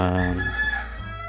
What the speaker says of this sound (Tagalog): pasensya na sa manok